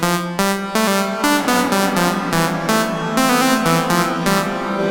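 Melodic notes played through a long reverb so each tone keeps ringing into the next, building a dense, smeared wash of overlapping pitches; loud, sustained and continuous without any talking.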